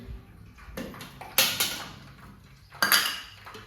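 A metal pot of heated ghee and a jar clank against each other as the ghee is filled into the jar, a handful of sharp metallic knocks in two clusters over low kitchen background.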